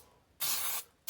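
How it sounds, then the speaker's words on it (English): Food Pub cooking spray with flour blasted into a cake pan, two bursts: a long close hiss of about half a second, then a second short burst starting at the end, with quiet between. "I always buy this Food Pub cooking sprayer you can get any that has the flour in it."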